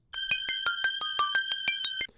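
A bright, buzzy granular synthesizer tone, from Parawave Rapid, pulses in rapid, evenly spaced bursts, each carrying stacked harmonics, then cuts off sharply.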